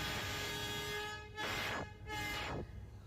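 A local train passes on a railway near a road in Pakistan. A steady, fairly faint rumble runs throughout with sustained horn-like tones, and it swells in a couple of brief surges.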